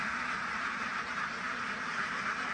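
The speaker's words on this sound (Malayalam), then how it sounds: "താറാവുകളെ എന്തോ കണ്ട് പേടിച്ചിട്ട് എല്ലാം കൂടി അവിടെ നിന്നിട്ട് പാഞ്ഞു വരിക." A flock of frightened ducks rushing back together makes a dense, continuous chorus of quacking that holds steady throughout, moderately distant and without talk.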